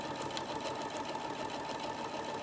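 Sewing machine stitching a tote bag at a slow, even pace, a continuous close mechanical hum with a fine rapid needle chatter throughout and no voices.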